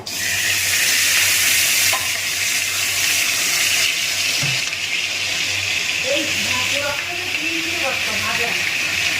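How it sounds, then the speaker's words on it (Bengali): Potatoes frying in a pan, a steady close sizzle and hiss with occasional stirring, while a voice talks over it. "আলু ভাজা হচ্ছে"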